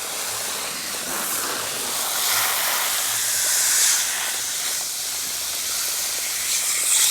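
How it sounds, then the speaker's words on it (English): Steam and smoke hissing off a 1969 Fedders air conditioner coil treated with Nu-Brite cleaner, a steady broad hiss that swells and fades slightly over several seconds with no voices. "You see the smoke and steam coming off of it."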